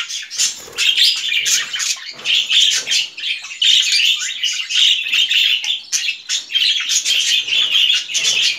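Budgerigars chirp and chatter in a breeding cage with a nest box, a dense close flock of rapid overlapping tweets and squawks continuing without pause.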